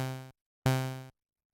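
Two synthesizer tones with the envelope decay set to 50% play one after the other, separated by a brief silence. Each starts loud and fades smoothly over about half a second before cutting to silence.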